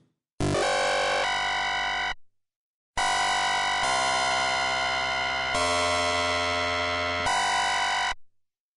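Harsh, metallic frequency-modulated synth bass growls in two long bursts separated by a short gap, shifting pitch abruptly, loud and distorted with no other sound, in a dubstep style.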